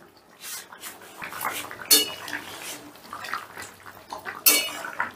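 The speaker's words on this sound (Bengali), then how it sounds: "রান্নাটা 2-3 মিনিটের মতন ফুটিয়ে নিয়ে ঢাকাটা তুলে নিচ্ছি।" A lid comes off a pot of simmering egg-and-lentil fritter curry with two sharp metallic clanks, one near the middle and one near the end, among softer clinks and rustles of handling cookware nearby.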